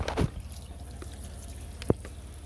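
Tap water rinsing dishes in an RV sink: a brief splash of running water at the start, then quiet drips and one sharp clink of dishware, all fairly close.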